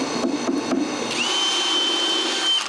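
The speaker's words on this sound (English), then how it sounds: "The first thing I do is drill the aligning holes in the spoil board." A power drill whirs steadily while boring aligning holes into a wooden spoil board, with a few short taps at the start before a sustained, close, high motor whine that holds for over a second and then stops.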